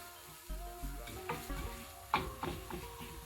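Garlic cloves frying in oil in a pan, a steady soft sizzle under scattered stirring clicks and utensil taps, close and moderately quiet with no talk.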